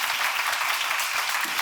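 Dense, continuous applause from a church congregation during a sermon fills the whole moment, steady and fairly loud without pauses.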